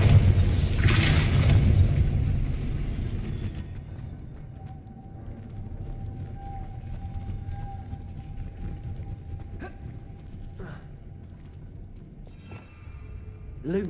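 Confringo and Depulso spell blasts in Hogwarts Legacy: a loud, booming burst opens, then fades into a low rumbling tail, followed by a few faint sharp clicks and thuds near the end.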